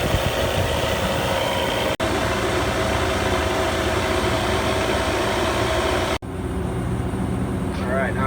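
A refrigerant recovery machine runs while pulling gas out of an air conditioning system during a discharge line leak repair, a steady loud mechanical drone with two brief dropouts, close by.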